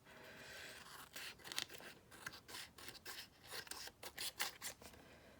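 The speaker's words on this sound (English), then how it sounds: "cutting off all the excess. And it's sticking to my hands and my scissors." Scissors trimming excess paper from a junk journal page, sticky with glue, in a run of irregular snipping and rubbing strokes up close, fairly quiet and steady with no speech.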